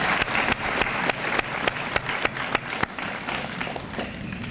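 Audience applause at a high school honors assembly fills the room, many hands clapping in a dense, steady wash with sharper individual claps standing out, gradually easing toward the end.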